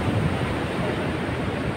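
Surf rolling in at Parangtritis beach, a broad steady wash of noise lasting throughout with no distinct break, fairly loud and constant, likely with wind buffeting the microphone.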